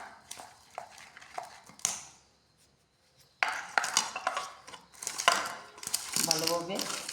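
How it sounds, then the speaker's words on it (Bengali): Rice flour being worked together with salt and a little white oil in a bowl, giving close, irregular scraping, clinking and rubbing strokes with a short quiet gap midway and a brief rattle near the end. "ভালোভাবে সব মিশিয়ে নিচ্ছি"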